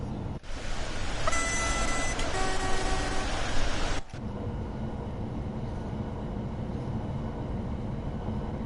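A Class 800-style train pulls away in Train Sim World 2 on the Köln high-speed line, with a steady rumbling drone, a brief cluster of tonal chimes or whines early on, then a smoother continuous hum.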